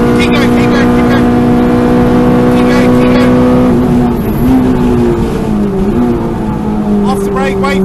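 A K-swapped Renault Clio race car runs loud and steady at full throttle, its engine tone sweeping and dipping as it works through the track, with a person talking over the drone throughout.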